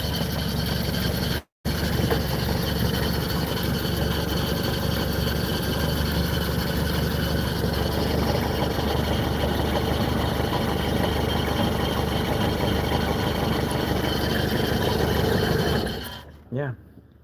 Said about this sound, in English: you start it and it idles